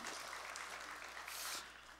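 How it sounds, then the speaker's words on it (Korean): A church congregation claps together during a Sunday worship service, a dense, steady wash of applause heard from a distance, fairly faint and fading slightly at the end. "우리 찬양 받으신 주님께 영광의 박수"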